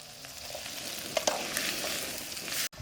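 Onions frying to golden brown in a pan for a village-style rabbit curry, a steady close sizzle with scraping stir strokes and a couple of sharp clinks near the middle, ending in a brief cut.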